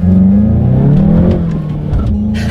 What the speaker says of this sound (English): let's do a quick little acceleration now that we're at a red light here, and let's see how quickly we can get this 2019 Golf GTI up to speed